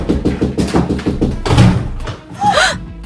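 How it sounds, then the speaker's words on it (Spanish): A rapid run of roughly eight knocks raps on a door, fairly loud and evenly spaced, followed by a heavier thump and a short vocal sound. "Llaman a la puerta."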